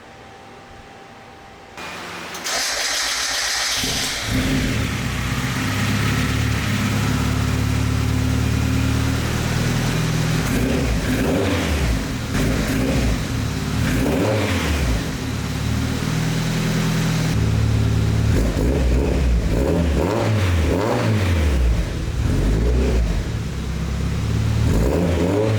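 A turbocharged Mazda Miata engine with its exhaust leaks repaired idles and revs steadily, a continuous loud mechanical drone with rising and falling pulses, heard alone without talk.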